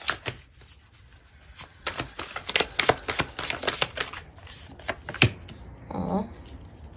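Tarot cards are shuffled close up in a quick, crisp run of riffling flutters and slaps lasting several seconds, followed by a brief soft vocal sound near the end.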